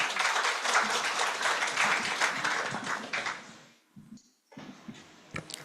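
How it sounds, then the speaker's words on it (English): Audience applause for symposium panelists, a steady round of clapping that fades out, followed by a few scattered claps and taps. "round of applause for our panelists"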